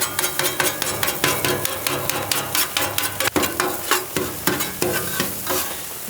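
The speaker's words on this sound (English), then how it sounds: "Now I'm just gonna chop this stuff up." Metal spatulas chop and scrape rapidly on a Blackstone griddle over breakfast burrito filling of potatoes and grilled onions, sharp rhythmic clacks layered over a continuous sizzle, close and fairly loud.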